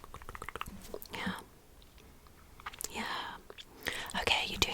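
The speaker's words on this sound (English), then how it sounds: "Chew your gum at the same time, please." Gum chewing in a close-miked ASMR nurse roleplay, soft wet mouth clicks and smacks coming in bursts between stretches of whispered talk.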